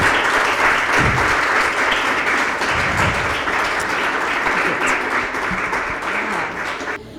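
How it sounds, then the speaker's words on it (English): A room full of people gives hearty, sustained applause as a woman walks to the stage at a business talk, a thick, even roar of clapping that fades a little toward the end. "So, as she walks to the stage, please clap for her. Like a hearty clap."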